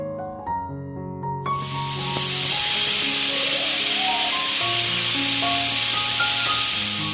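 A Kerala-style beef curry cooking in a pressure cooker, its whistle bursting into a loud, sustained broadband steam hiss that holds steady for several seconds over music playing underneath.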